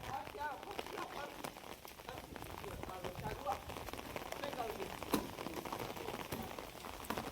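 Steady rain falls over a Gujarati village where children play volleyball, a dense continuous patter with a few louder drops, and people talk faintly in the background.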